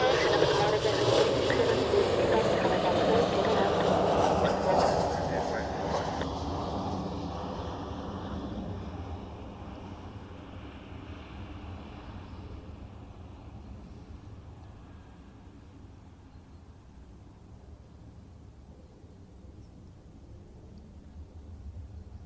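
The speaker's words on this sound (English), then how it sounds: "Alright, that was a small Embraer." Small Embraer jet passing at Zurich Airport, a broad roar that is loudest at the start and fades away steadily over about twenty seconds, with faint wind noise beneath.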